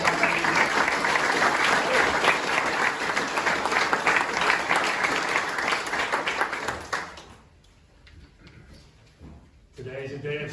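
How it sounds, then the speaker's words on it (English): Crowd applause at a historical society's 50th anniversary celebration, dense steady clapping for about seven seconds that fades out, followed by a quiet pause and then a voice resuming. "let's give a round of applause for the leaders and all the members of the Mount Joy Historical Society"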